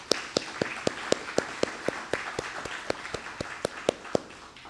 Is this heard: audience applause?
yes